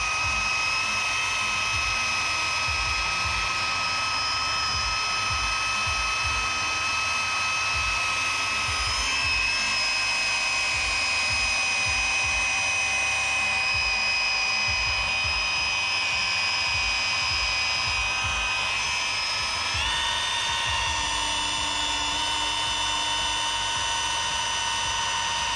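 Loud, continuous whine of a power tool working a scratch during paint polishing, holding a steady high pitch that shifts slightly a few times over nearly half a minute.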